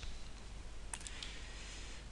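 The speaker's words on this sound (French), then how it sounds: "Et ici, vous avez les boutons de la souris sur lequel j'appuie." Computer mouse buttons pressed during a 3D modeling tutorial, a few quick sharp clicks near the middle standing out over a steady hiss of background noise, with no talking.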